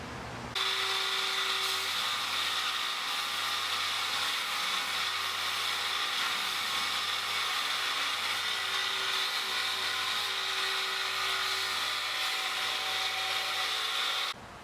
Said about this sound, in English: I'm going to go to the flat platen of the grinder and take care of these flatter portions